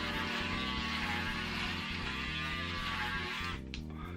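A Braun 3040s wet and dry electric shaver runs while shaving dry, giving a steady close buzzing hum with an even tone that holds for about three and a half seconds, then briefly dips near the end.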